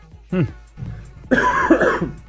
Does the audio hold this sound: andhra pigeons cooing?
no